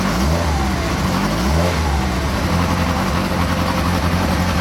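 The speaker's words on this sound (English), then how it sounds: "particularly if I blip the throttle" Car engine running steadily with throttle blips, a loud close mid-pitched drone whose rising and falling harmonic tones mark each rev, with no talk over it.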